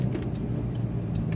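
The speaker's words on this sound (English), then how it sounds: "Makes a U-turn so well for a sports car like this." A Porsche 992 911 Carrera S sports car turns through a U-turn, its engine a soft, steady low hum at low speed, heard briefly from close by.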